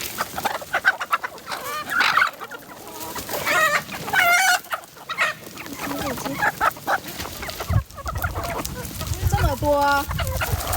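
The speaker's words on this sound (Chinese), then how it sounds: "我来喂鸡吧" Chickens on a simple farm cluck and squawk repeatedly while being fed, a busy, close flock with overlapping calls, scattered rustling and occasional talk in the background.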